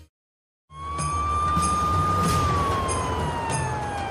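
An ambulance siren in an action drama sounds loudly and steadily after a moment of silence, its long wailing tone rising slightly then falling, with rumbling vehicle noise underneath.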